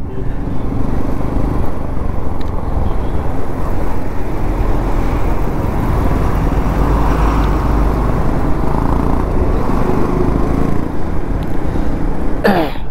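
Motorcycles ridden by a touring group on a road near Darjeeling, a steady loud engine and road rumble running continuously throughout, with wind noise and no speech.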